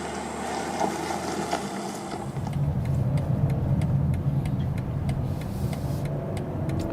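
A Mercedes GLE, BMW X5, Audi Q8 or Porsche Cayenne SUV engine drones steadily while driving, with a low rumble that rises and thickens after a couple of seconds as it picks up speed, mixed with road and wind noise.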